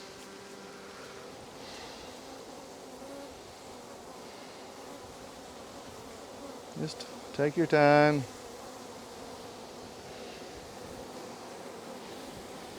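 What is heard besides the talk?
honeybee swarm buzzing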